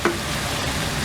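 Prawns hiss and sizzle in a hot pan with vegetables for Chinese shrimp fried rice, a steady close frying crackle after a brief knock at the start.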